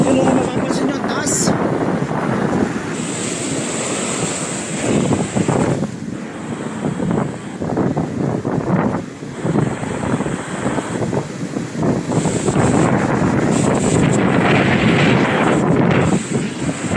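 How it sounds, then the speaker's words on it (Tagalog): Strong ocean waves wash over a rocky fishing shore in Australia, with steady surf rush and heavy wind noise on the microphone throughout, and people talking over it. "Inabot ng alon. Lakas kasi na alon."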